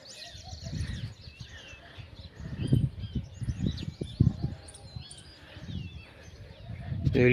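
Sparrows come to drink at water on a farm, with light chirps and tweets scattered over a background of wind, rustling and low, muffled voices.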